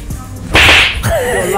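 A single sharp slap on the face, loud and close, struck during a face-to-face kiss, slap or smash game, followed by a brief reaction from the people there.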